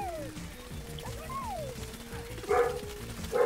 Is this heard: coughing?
no